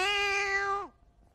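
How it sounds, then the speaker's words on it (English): A cat gives a single clear, drawn-out meow that dips in pitch at the end, close and loud, followed by near silence. "Was that a Brazilian short hair, a Himalayan Persian, or a York chocolate cat?"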